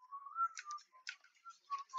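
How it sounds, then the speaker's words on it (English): A person whistles a quiet, wavering tune alone, a thin bending tone broken by soft clicking taps. "Shut, stop whistling!"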